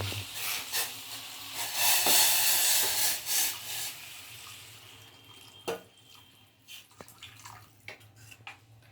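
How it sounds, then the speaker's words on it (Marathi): Hot boiled water poured into a pan of bean and potato curry (shenga batata bhaji), a loud steady rushing splash that tapers into scattered drips and small clinks near the end, with no talk. "ते आता गरम पाणी ह्याच्यात घाला"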